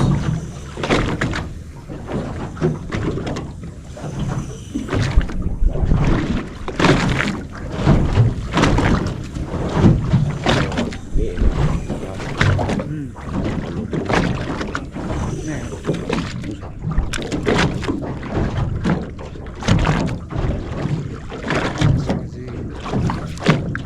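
Out at sea on a small fishing boat while slow pitch jigging for sailfish, a steady engine drone mixes with wind buffeting the microphone and slapping water, and people talk on and off throughout.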